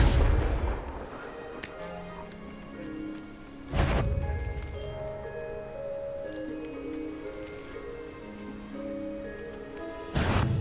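Confringo spell explosions in Hogwarts Legacy on Nintendo Switch: a sharp blast opens, another bursts a few seconds later and a third near the end, each ringing out over soft ambient game music and tones.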